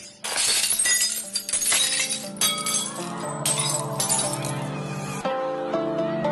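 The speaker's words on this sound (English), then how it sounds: "all the energy in the sound of the singer's voice is transferred to the glass, and it shatters" Glass shattering as a singer's voice breaks it, a sharp burst of breaking glass followed by a long spill of tinkling shards and ringing fragments, loud and close.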